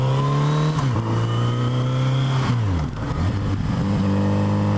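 Kawasaki Z900RS motorcycle engine on a test ride, a loud, steady inline-four drone with clear tonal harmonics that dips briefly as revs fall around a gear change, then settles and climbs again, close to the rider, with no talking.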